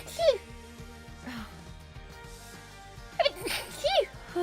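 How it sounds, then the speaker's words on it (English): A single person sneezes, a sharp burst with a quick follow-up, over quiet game music with light talk around it. "I'll go to sneeze, I'm really sorry."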